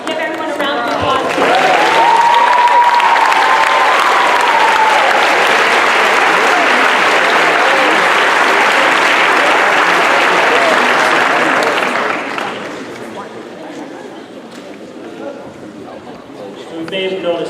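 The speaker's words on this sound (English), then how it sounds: "give everyone a round of applause" Audience at a senior awards night breaks into loud, sustained applause lasting about twelve seconds, then fades to a murmuring room.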